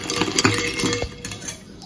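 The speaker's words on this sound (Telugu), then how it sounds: "ఐస్ క్యూబ్స్ యాడ్ చేసుకుంటున్నాం" Ice cubes dropped into a milk and sugar summer drink clink against a glass or pot with light stirring, a few close sharp knocks then softer rattling.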